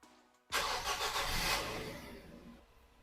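A Nissan Qashqai engine cranks and catches after a short quiet pause, then settles into a steady mid-pitched idle that slowly eases down, heard close with no talking.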